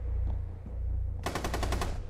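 An M249 machine gun fires in Rainbow Six Siege as a rapid burst of about seven loud shots over a steady low rumble, with no voices.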